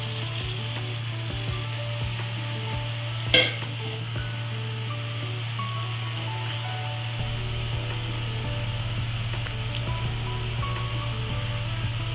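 Cooked lentils (dal) tipped into a pan of minced mutton for a tarka, giving a steady low sizzle and frying hiss with one brief clatter early on, close and unbroken, with a constant low hum underneath and no talk.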